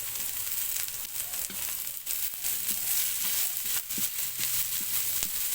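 Onions frying in a pan for eel adobo in coconut milk, a steady loud sizzle close up with occasional stirring scrapes and crackles throughout.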